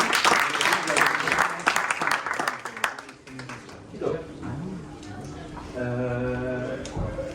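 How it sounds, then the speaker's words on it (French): An audience applauds at a French talk on energy, dense clapping for about three seconds, then fading as voices and a sustained musical tone take over. "je propose qu'on applaudisse Ania pour représenter cette"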